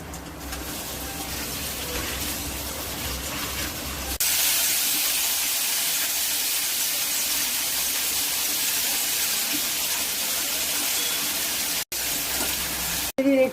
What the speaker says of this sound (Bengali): ওই তেলেতেই ফোড়ন দিয়ে দিলাম।